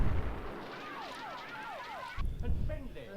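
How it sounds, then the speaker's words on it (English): A Doctor Who sci-fi effect from The Dominators: a string of descending whistling sweeps ends in a sudden, loud broadband explosion burst that rumbles briefly. "Explosion caused this."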